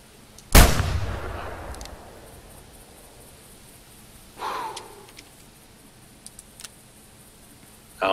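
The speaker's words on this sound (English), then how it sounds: "Shoot it right in the lungs." A single loud rifle shot at a hog in the hunting game The Hunter Classic, sharp and close with a long rolling echo, then a second fainter report a few seconds later and small ticks, no talk.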